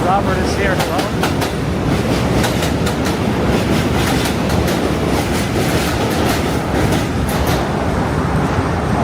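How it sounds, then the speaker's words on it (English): A New York M subway train rolls across the Williamsburg Bridge, a loud, continuous roar with rhythmic clickety-clack of wheels over rail joints, heard from close by and steady throughout. "It's here. M train."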